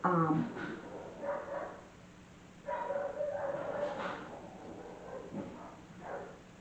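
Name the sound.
dogs fighting and barking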